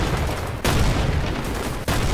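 Grenade blasts and gunfire from the shooter game STALKER, heavy and continuous, with two sharp booming explosions that stand out against a dense, rumbling barrage.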